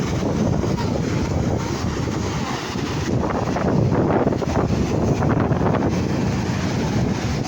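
Strong wind blows steadily, roaring and buffeting the microphone throughout, loud and continuous with no voices.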